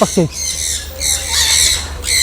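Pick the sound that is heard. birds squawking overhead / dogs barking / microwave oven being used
birds squawking overhead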